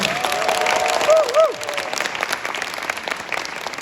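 Applause and crowd noise follow a reggae song performance, a steady patter of clapping with a brief tonal whistle-like sweep near the start, then the clapping thins out toward the end.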